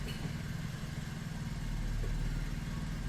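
A Mazda 3 engine idles with a low, steady rumble, its pitch and loudness rising slightly as it is revved and settling back, with no voices.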